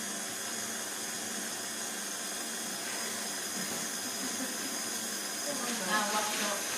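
A stand mixer whisks Italian meringue while it cools, producing a steady, moderately faint motor hiss and whir that runs continuously, with a slight rise near the end.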